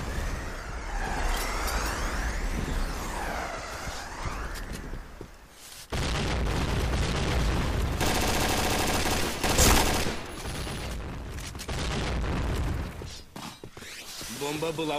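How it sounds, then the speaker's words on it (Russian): Grenade explosions and dense gunfire fill an online multiplayer shooter match, loud and nearly continuous with sharp booms and rapid bursts, while a commentator talks over the action. "у нас тут гранаты, небольшой размен"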